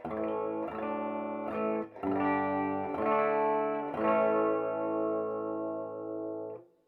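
Clean electric guitar on the bridge humbucker pickup strums a few chords in succession, bright and close, the last chord ringing out for a couple of seconds before stopping.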